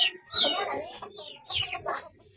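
A Rhode Island chicken clucks close by in two quick bursts of throaty, rising calls.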